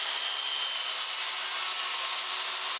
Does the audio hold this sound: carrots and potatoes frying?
no